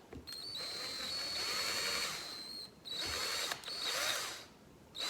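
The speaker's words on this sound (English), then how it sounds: "Run the drill backwards." A power drill runs in reverse to turn a speedometer cable on a 1984 Nissan 300ZX. It whines steadily in several long bursts with brief pauses and clicks between them, close and continuous.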